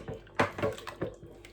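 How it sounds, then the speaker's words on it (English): Condensed milk poured and stirred into pumpkin punch, a short close liquid slosh with a few wet splashes and clinks. "I'm going to pour my condensed milk in and mix like so."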